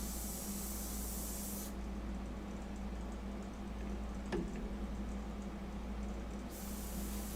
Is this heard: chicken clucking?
no